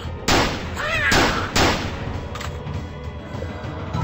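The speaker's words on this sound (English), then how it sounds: "it's shooting the gun now" Gunfire from a gun in the zombie game Lab of the Dead, three sharp loud reports in quick succession over a dense, noisy game background, followed by rumbling decay.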